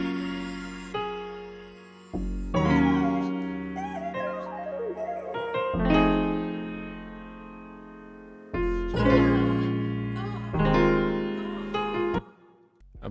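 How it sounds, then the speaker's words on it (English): A bass one-shot from an Owl Hug kit plays the root notes of piano chords inside a hip-hop loop, low notes thumping under ringing chords in a steady pattern for several bars. "It's this bass, it's from a Owl Hug one-shot kit."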